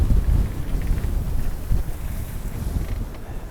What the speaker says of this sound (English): 30 knots of wind, fully reefed mainsail